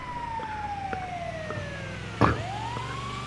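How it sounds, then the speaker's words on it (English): An ambulance siren in GTA Online wails with a falling then rising sweep over a low engine rumble, moderately near, with a brief thump partway through. "Alright, this one has an ambulance to it, apparently."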